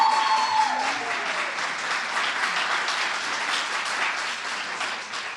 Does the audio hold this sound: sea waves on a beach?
no